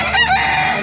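Black-legged bullstag rooster crowing loudly and close, a single short harmonic call.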